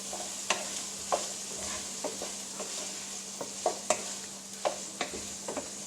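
Onions fry in a pan while a spoon stirs them, with occasional scraping clicks over a steady soft sizzle and a low hum.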